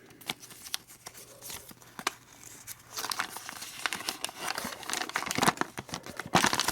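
Taped LEGO Marvel Series 2 minifigure box being torn open, close crinkling of packaging and sharp rips that grow louder and busier toward the end, with no talk.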